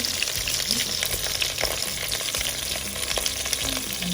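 Onions sizzling in a pan with pumpkin leaves, a steady close frying hiss with occasional stirring scrapes and pops throughout.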